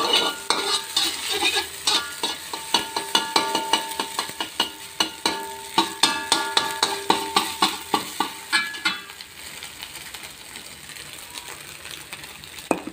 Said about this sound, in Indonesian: Kita hancurkan ya telur ini.